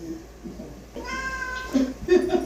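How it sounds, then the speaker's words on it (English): A pet cat meows in a room, a single drawn-out, rising call followed by a couple of shorter chirpy meow sounds, close and clear over a quiet background. "You meowed and then stared at the TV"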